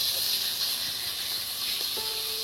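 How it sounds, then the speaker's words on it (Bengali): Chicken pieces for chicken piyaji hiss loudly and evenly in hot oil, a continuous close sizzle with a faint clink or two beneath it. "এবার আমি গরম তেলে চিকেনগুলো দিয়ে দিচ্ছি।"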